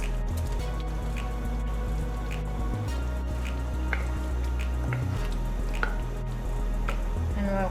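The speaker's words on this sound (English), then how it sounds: "Now I will add the meatballs to the sauce." Meatballs dropped one by one into a pot of tomato sauce, giving soft scattered plops and wet splats over a steady low kitchen hum, with no one talking.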